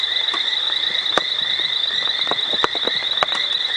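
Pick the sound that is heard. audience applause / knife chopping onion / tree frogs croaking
tree frogs croaking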